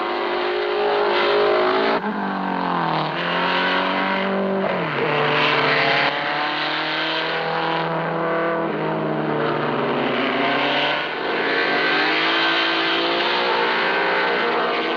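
Racing cars at the 1958 24 Hours of Le Mans circuit, loud engines revving and shifting through gears with rising and falling pitch, one car passing close and others droning behind, continuous with no talk.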